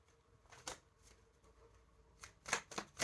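Tarot cards being shuffled by hand in a few quick riffling bursts, faint and sparse at first, then louder and closer together toward the end, with no talking.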